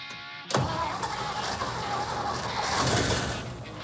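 An old Ford truck engine cranks briefly, then catches and runs roughly at a loud, uneven idle for a few seconds after the ignition is fed directly to the coil.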